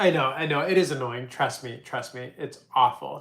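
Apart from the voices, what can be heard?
None of the usual background noises is heard.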